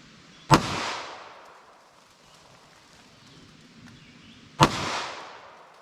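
Two sharp, loud 9mm pistol shots ring out about four seconds apart, each fired from roughly four yards over a chronograph with Underwood +P JHP ammunition, with a short echoing decay after each crack.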